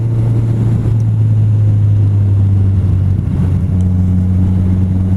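Kawasaki Z1000 motorcycle taking a 30 mph corner, its engine a loud, steady low drone with a constant rumbling note throughout, no talking.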